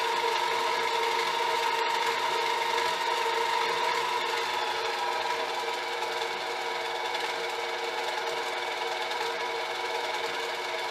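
Metal lathe running with its cutter turning at 600 RPM, a steady high mechanical whine and hum that holds constant throughout, with one brief tick early on and no talk.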